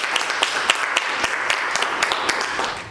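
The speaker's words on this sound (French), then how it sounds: "j'aimerais déjà à ce niveau-là que vous vous applaudissiez pour les efforts et le temps" Participants at a training session applaud themselves, a room full of close, brisk clapping with sharp individual claps standing out, fading slightly at the end.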